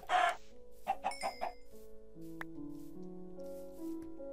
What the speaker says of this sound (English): Die, chicken, die.